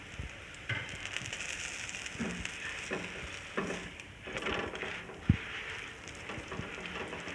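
A roti made as missi roti cooks on a hot pan while ghee is spread on top, producing a steady, close sizzle and crackle with soft scraping touches and one brief clack.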